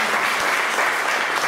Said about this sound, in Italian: Un grande applauso, lo facciamo.